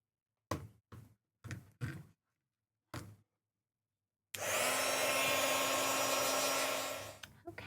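A hand-held dryer blows a steady, loud whoosh with a low hum to dry paint on an upcycled jar, starting after several sharp taps and knocks and running about three seconds before cutting off.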